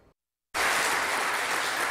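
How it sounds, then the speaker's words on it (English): A crowd bursts into sustained, dense applause after a moment of silence, many hands clapping loudly and evenly, following a talk on the death penalty by former Oregon Governor John Kitzhaber. "That applause for former Governor John Kitzhaber speaking tonight to this crowd"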